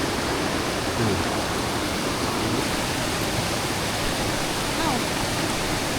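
Steady, dense rush of falling water at Kot Kong waterfall in Thailand, constant and broadband with no breaks, like a waterfall heard up close.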